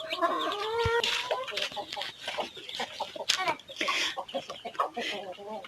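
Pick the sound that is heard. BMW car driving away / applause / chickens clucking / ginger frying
chickens clucking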